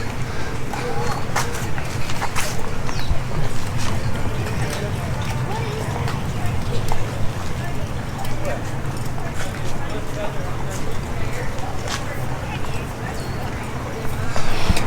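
Horse hooves clip-clop in an uneven rhythm over a busy outdoor background at a cattle ranch in Hawaii, with people talking nearby.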